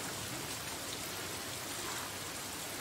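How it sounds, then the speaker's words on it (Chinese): A sudden heavy rainstorm pours down in a steady, unbroken hiss of rain falling on surfaces, moderately quiet and continuous without any talking. "你看今儿这大暴雨，下的太突然了"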